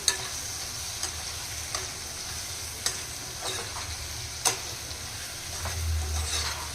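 A spoon stirs raw mango curry with coriander powder and salt in a sizzling pan, giving a steady frying hiss punctuated by several sharp scraping clicks spaced roughly a second apart, with no talking.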